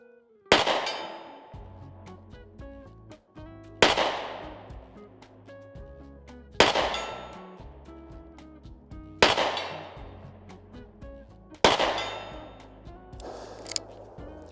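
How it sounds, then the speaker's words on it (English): Five sharp revolver shots from a Smith & Wesson 442 fired at steel 50 yards away outdoors, each loud crack spaced about three seconds apart and trailing into echo, with a fainter report at the end. "So I just got 4 or 5 shots at the 50-yard steel prepping the trigger."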